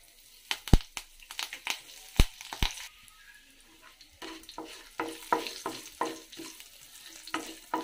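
Tempering of garlic and curry leaves frying in a pan for a raw banana yogurt chutney, with sharp crackles and pops and a stirring scrape, loud bursts early and then steady sputtering alone.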